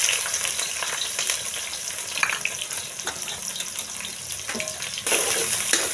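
Onion, garlic, ginger, green chilli and cumin sizzle in oil in a pan on a rustic clay stove for a Rajasthani paneer dish, a soft continuous crackle with stirring scrapes that grows louder near the end.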